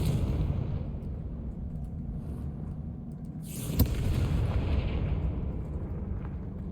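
A Confringo fire spell bursting in the video game Hogwarts Legacy, a single sharp blast over a loud, continuous low rumble of game sound, with no talking.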